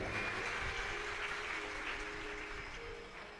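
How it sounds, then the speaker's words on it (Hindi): Applause from a large crowd at a live Shiv Mahapuran katha gathering, a steady dense wash of clapping held throughout and easing slightly toward the end, heard from a distance. "एक बार इनके लिए जोरदार ताली बजाएं।"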